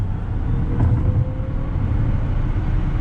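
A Tesla Model X P90D accelerates out of a bend with a low, steady rumble of motor and road noise that rises slightly and stays loud through the pull.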